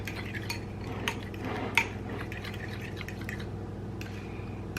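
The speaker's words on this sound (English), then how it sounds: "So you gotta keep stirring it." Food stirred in a pot for a Southern soul food dinner, giving scattered light metallic clinks and scrapes of utensil against pot over a steady low hum, with one sharper clink near the middle.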